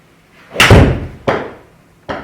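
Ping Blueprint or Mizuno MP-20 iron striking a golf ball: one loud, sharp impact with a ringing decay, followed by two fainter, similar knocks.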